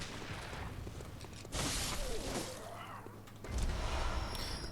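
Gunfire from quicksilver bullets in Bloodborne, at Forsaken Cainhurst Castle, comes as a few sharp shots with shattering impacts and whooshes over game ambience, moderately loud.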